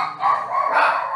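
A dog gives a couple of quick, close barks indoors, short sharp yaps bunched within about a second.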